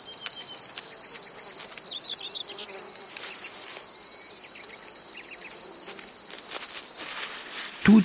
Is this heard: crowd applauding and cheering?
no